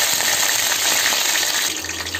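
Curry leaves dropped into hot coconut oil set off a loud, dense, steady sizzle that crackles continuously from start to finish, close and with no voices.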